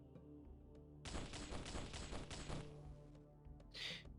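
A rapid burst of smart gun fire in the X-piratez game, a dense rattling volley lasting about two seconds that fades into a short tail, followed by a brief hiss.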